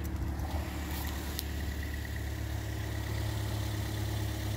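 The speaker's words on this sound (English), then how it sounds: "You start to hear the intake when you give it some gas and the engine works." A 2010 Toyota Yaris engine fitted with a homemade cold air intake idles with a steady low rumble and a faint rise in pitch as it is given some gas, heard up close and alone.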